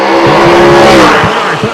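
A turbocharged drag racing car roars past at a strip, a loud sustained engine note with rising harmonics and brief tire chirps, close and continuous for under two seconds.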